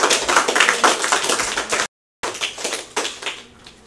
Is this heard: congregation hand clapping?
yes